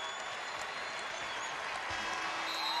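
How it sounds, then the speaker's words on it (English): A basketball arena crowd applauds and cheers their home team at a UConn women's game, a sustained, dense wash of clapping that sounds slightly distant and grows a little louder toward the end. "the Gamble crowd comes to their feet to salute their Huskies"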